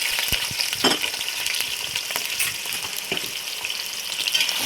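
Onions sizzle steadily in hot oil with whole spices for fish biryani, a dense continuous frying hiss broken by occasional scrapes and clinks of a stirring spoon, close and alone without voices.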